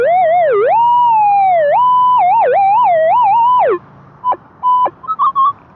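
A metal detector's steady electronic tone warbles and swoops in pitch for several seconds over a dime-like target in mud, then breaks into a few short, separate beeps.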